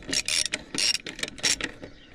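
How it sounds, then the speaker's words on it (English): A wrench ratchets on the lug nuts of a trailer tire during a repair, giving several quick bursts of close, crisp clicking with short pauses between strokes. "I always like to come back in with my wrench and tighten them as much as I can to where it moves the tire"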